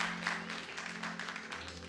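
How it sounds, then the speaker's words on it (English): A church congregation applauds a visiting prophetess, a brief burst of many hands clapping at moderate distance with a low hum underneath. "Give a round of applause for her"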